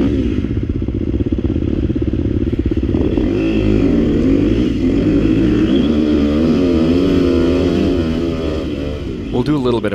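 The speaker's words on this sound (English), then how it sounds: "here we go on the KTM 250XCF up the Razorback" KTM 250 XC-F dirt bike climbing a steep, rough hill trail, its single-cylinder engine loud and close, revving and bogging in uneven surges with clattering under it.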